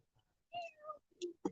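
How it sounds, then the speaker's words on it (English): A cat meows a few times close by, short distinct calls separated by brief gaps in an otherwise quiet setting. "There's a cat."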